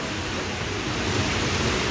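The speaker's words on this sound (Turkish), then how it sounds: "O yukarıdan aşağıya hızla dökülen su dediğim gibi o taşın arkasındaki çarkı çeviriyor" Water pours down fast to turn the wheel of a working water mill that grinds corn beside a waterfall restaurant. It makes a loud, steady, close roar of rushing water with no breaks and no voices.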